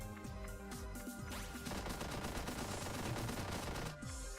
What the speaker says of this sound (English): you can move the turret up to start shooting the enemy up there